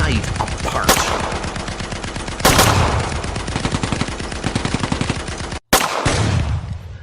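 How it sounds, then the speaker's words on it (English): Rapid machine-gun bursts crack through a radio-style drama, punctuated by three sharp explosive blasts, loud and close, with a brief dead silence before the final blast and its rumbling tail. "Suddenly, a shattering series of explosions tear the night apart."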